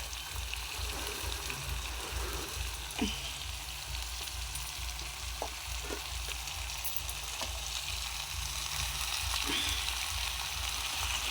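Turmeric going into a sizzling pan of frying food, a steady close hiss of oil with light stirring clicks and no talk.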